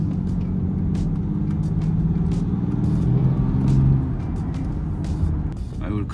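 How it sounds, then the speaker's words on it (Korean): Inside a BMW X6 30D, the engine rumbles steadily at low pitch as the car accelerates hard, with road noise beneath and faint clicks. "가속 한번 확 해봐."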